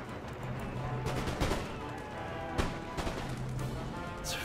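Musket volleys from foot infantry in Empire Total War, with repeated sharp cracks and crashes over a dense battlefield din, loudest at several moments and fairly close.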